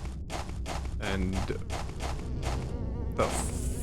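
Buzzing mosquito-like creatures from the video game Silent Hill 4 swarm close by, their droning whine pulsing in repeated bursts over a low rumbling game soundtrack.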